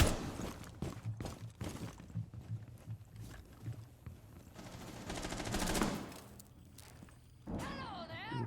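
Rapid gunfire in a Rainbow Six Siege match, bursts of clattering shots at moderate distance mixed with game noise, with a commentator talking over parts of it.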